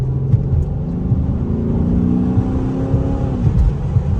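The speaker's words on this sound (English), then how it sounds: "Such a mean vehicle, and the exhaust sounds good." Exhaust of a 2007 Chrysler 300C SRT8 muscle car rumbles and revs steadily, deep and loud at close range, with no talk over it.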